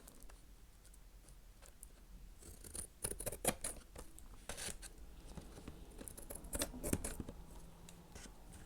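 Scissors snip through paper along the bottom edge of a napkin journal, with close, quiet, irregular crisp cuts that cluster more densely in the middle of the clip.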